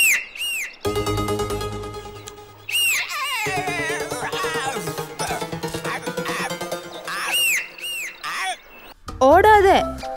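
Short cartoon whistles in a Tamil children's animation, several quick rising and falling bursts near the start and the end. Busy stretches of animated voices and sound effects fill the middle.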